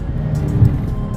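A Dodge Charger Daytona 392 V8 in track mode gives a deep, loud engine roar, close and steady, with a punchy low rumble throughout a brief burst of acceleration.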